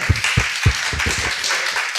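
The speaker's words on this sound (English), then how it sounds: "Clap it up for that." A few people clap in a series of sharp, separate claps close by, a loose irregular rhythm that thins out toward the end.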